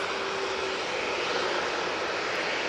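A Boeing 787-9 Dreamliner roars with a broad, steady engine wash, loud and unbroken throughout, with no voices.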